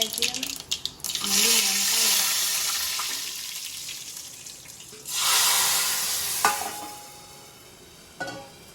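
Loud bursts of sizzling as spices for pav bhaji tempering hit hot oil, rising and fading in waves, with a few metallic clinks of a utensil.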